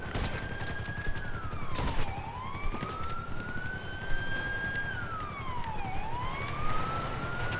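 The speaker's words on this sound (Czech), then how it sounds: "Jak se vypínají ty sirény?" Police siren in GTA V Online, a loud wailing tone sweeping slowly up and down in repeated cycles, with scattered gunfire bursts and traffic noise around it and no talk.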